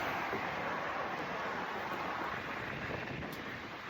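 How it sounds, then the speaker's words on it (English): Steady wind rushes and buffets the microphone outdoors on a balcony, a continuous broad roar with no voices. "it is breezy, it is windy"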